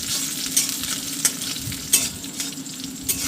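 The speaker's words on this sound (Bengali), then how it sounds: "পেঁয়াজ কুচিটা ভীষণ ভালো করে ভাজতে হবে" Chopped onion crackles and sizzles steadily in a hot pan, with a few sharp scrapes of a spatula stirring it roughly every half second to second, close and fairly loud.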